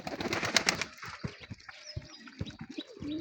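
Pigeons in a loft coo in low, throaty bursts close by, with a brief flutter of wings at the start and scattered soft calls afterward.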